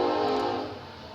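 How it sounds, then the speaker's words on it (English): A large train passing by, a dense low rumble with a sustained tonal hum like a horn, loud at first and fading over about a second. "there's a huge train going by right now."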